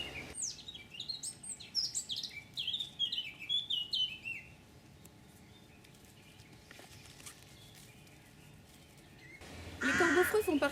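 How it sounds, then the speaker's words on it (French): Rooks in an aviary where they are bred give a run of harsh, overlapping caws and chirps for about four seconds. A quieter stretch follows, then a short loud burst of calls at the end. "nous sommes ici dans une volière où sont élevés des corbeaux-freux depuis plusieurs années"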